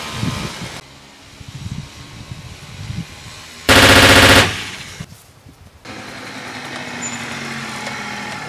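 Machine gun fire in a video game, one loud sustained burst of rapid shots lasting under a second, close and harsh, set against a steady engine-like rumble and quieter game noise.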